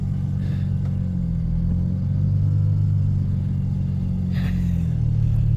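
An RB25-swapped Nissan 240SX runs at a loud, close, steady idle with a deep rumble, then the revs rise briefly toward the end.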